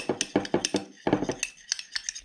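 A utensil stirs a glue-free homemade slime mixture in a bowl, making a quick run of rhythmic clinks and scrapes, about a dozen strokes in close succession, loud and close.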